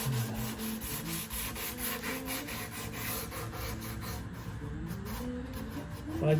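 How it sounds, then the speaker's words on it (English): Steady rasping strokes of sandpaper rubbing across a wooden guitar body, repeated back and forth at a close, quiet level without speech. "It's all sanding out really good."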